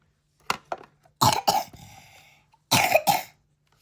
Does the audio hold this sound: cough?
yes